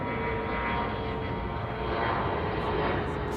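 A Boeing 747-400 jet airliner from Anchorage roars past at Chicago O'Hare, a loud, dense, steady engine rumble filling the whole short stretch.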